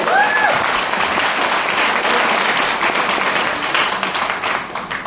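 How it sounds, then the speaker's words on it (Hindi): Loud, dense applause from an audience at a Hindi-language event, a continuous crackle of many hands clapping that holds steady for about five seconds before easing slightly at the end. "जोरदार ताली होगी।"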